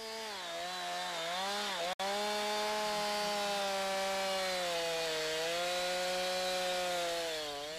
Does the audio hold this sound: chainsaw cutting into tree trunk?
yes